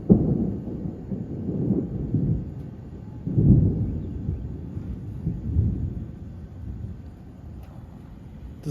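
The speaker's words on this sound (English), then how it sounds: "This is positive lightning strikes" Thunder from nearby positive lightning strikes during a severe August thunderstorm, deep rolling rumbles swelling and fading in repeated waves over several seconds, heavy and low without talk.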